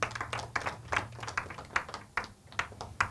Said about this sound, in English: give yourselves a round of applause for all making it here.